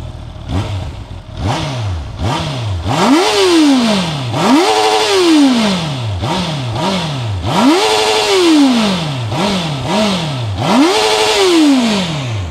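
A Honda CBR650R four-cylinder motorcycle engine fires up and revs repeatedly, each throttle blip rising and falling in pitch, loud and close with a rough idle between revs.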